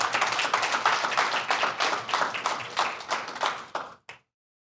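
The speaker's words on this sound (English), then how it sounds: "So again, round of applause for Yan." An audience at a customer awards presentation claps for an award recipient, a brisk burst of applause that stays strong and then stops, with a last single clap just after.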